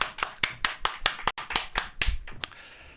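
A church congregation claps together at an Easter Sunday service, a fairly close, uneven patter of hand claps with brief pauses, no talking over it.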